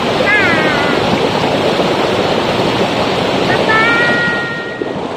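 Clear river water rushes loudly and steadily close by, a broad continuous wash with some wind buffeting, and a couple of brief whistling tones briefly rise above it.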